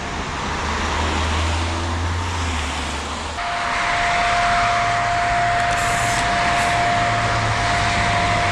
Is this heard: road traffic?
yes